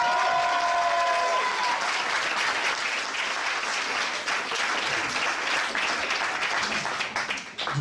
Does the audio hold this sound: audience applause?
yes